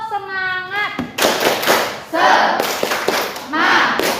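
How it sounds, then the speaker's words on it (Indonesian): A classroom doing a rhythmic spirit clap, a teacher's voice giving way to bursts of group claps and chanted responses from children, loud and close. "biar lebih semangat nanti dalam pembelajaran kita tepuk semangat terlebih dahulu ya"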